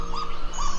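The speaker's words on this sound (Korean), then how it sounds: "둘째는 새 울음소리라기보다는 개가 카구라고 짖는 소리와 비슷해서" A kagu, a grey flightless bird, gives a short, close, barking call that sounds much like a dog.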